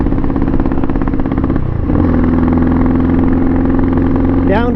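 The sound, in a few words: Pitsterpro XTR250 pit bike engine bogging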